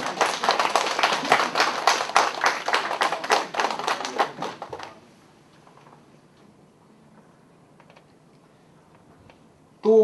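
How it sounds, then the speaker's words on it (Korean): A Korean lecture audience claps together for a mother for about five seconds; the applause is close and steady, then drops away to near silence with a brief sound at the very end. "지금 어머니한테 우리 박수 한번 보내드립니다."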